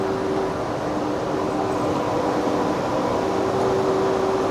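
Steady low rumble of a train departing a station nearby, a continuous mechanical drone with a faint tonal hum and no voices.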